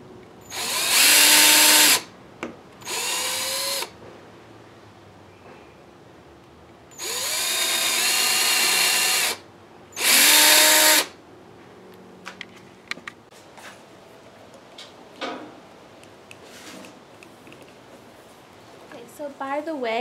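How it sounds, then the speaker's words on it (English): A power drill whirs in four short bursts pre-drilling holes in a board, each spinning up and winding down, with quiet clicks and handling noises between. "you're going to want to pre-drill every hole"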